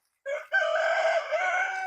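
A young rooster gives its first cock-a-doodle-doo, a single close crow starting with a short note, a brief break, then a long wavering cry.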